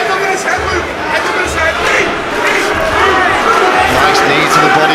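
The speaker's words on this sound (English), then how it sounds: "the crowd picking up on every little thing he does, roaring his name" An arena crowd at Cage Warriors 191 in Manchester roars and chants during the Luke Riley vs Tariel Abbasov MMA bout, surging in waves under steady commentator talk.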